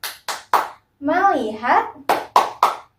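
A teacher leads the rhythmic clapping game "tepuk fokus": three crisp claps, a spoken phrase in a voice, then three more sharp claps in the same pattern.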